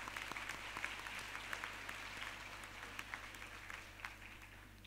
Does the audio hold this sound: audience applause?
yes